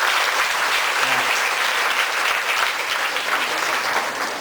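Strong, sustained applause from a graduation audience honouring grade 6 students, dense clapping from many people that holds steady and fades slightly at the end.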